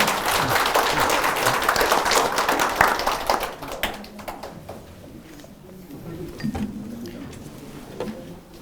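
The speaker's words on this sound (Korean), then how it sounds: "모두 큰 박수 보내주시면 감사하겠습니다." Audience applause in a large conference room at Seoul Station, dense clapping for about four seconds that thins out and fades into scattered claps and room noise.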